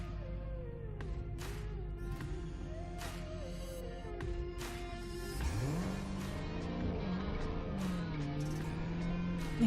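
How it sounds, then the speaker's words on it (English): Dodge Challenger muscle car engine in PUBG Mobile drones steadily, its pitch rising and falling as it revs, with sharp clicks and clacks scattered over it. "That sound of the car."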